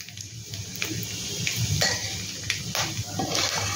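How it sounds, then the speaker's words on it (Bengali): Grated coconut fried with turmeric in a pan gives a light sizzle, with metal spoon scrapes and clinks against the pan at irregular intervals, close and moderately loud. "সেই জন্যে আমি হলুদ দিয়ে এটাকে একটু ভেজে নিচ্ছি"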